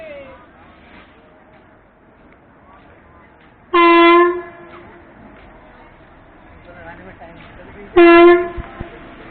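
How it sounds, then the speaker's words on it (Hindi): A train horn blows twice, loud and sustained, at Najibabad Junction during a locomotive reversal, cutting over steady rumbling station and carriage noise. "अपनी ट्रेन में देखो भाई साहब लोको रिवर्सल हो रहा है।"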